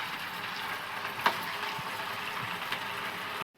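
Potato and semolina cutlets frying in oil give a steady, low sizzle throughout, with a couple of brief clicks and taps, fairly close and alone.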